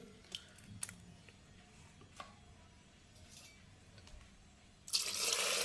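Water poured from a container over green chillies and sour curd in a bowl, arriving near the end as a sudden loud steady splashing stream after faint handling clicks.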